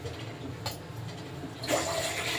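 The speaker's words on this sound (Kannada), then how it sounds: "ಅದಕ್ಕೆ ನಾನು 2ರಿಂದ 3 ಲೋಟ ನೀರು ಹಾಕ್ಕೊತಾ ಇದ್ದೀನಿ" Two to three glasses of water pour into a pot to make sugar syrup for gulab jamun, a gushing splash that rises suddenly and continues over a low room hum.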